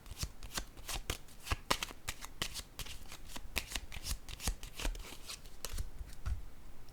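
Playing cards are shuffled and laid down in quick, crisp, riffling bursts throughout, close and fairly quiet, with no talking.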